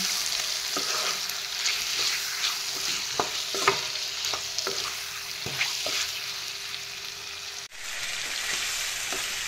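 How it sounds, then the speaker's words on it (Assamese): Chicken pieces frying in a hot pan for a masala curry, a continuous sizzle broken by a spatula scraping and turning the meat in repeated strokes, close and clear with no talk. "ইয়া মাংসখিনি মই এনেদৰে তলপৰ কৰি এফালৰ পৰা লৰাই দি দিলো"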